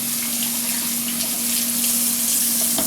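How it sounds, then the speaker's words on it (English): Hands being rinsed under a running kitchen tap after handling raw poultry, a steady close hiss of flowing water splashing into the sink, continuous for the whole stretch with no talking. "As you can see, I'm washing my hands because I want the water, you know, get all that poultry from under my nails"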